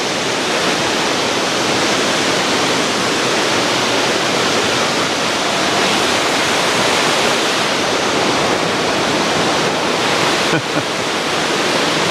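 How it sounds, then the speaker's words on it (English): Loud, steady rush of water at Big Spring in the Ozark National Scenic Riverways, a dense broadband roar like a waterfall that holds constant throughout with no voices over it. "Hear that water rushing?"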